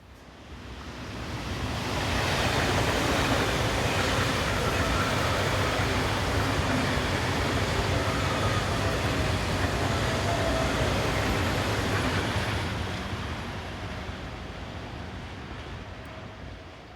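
A train passes on the busy German mainline between Fulda and Bad Hersfeld, a broad steady rumble and rush that swells in over two seconds, holds loud for about ten, then slowly fades, with no voices.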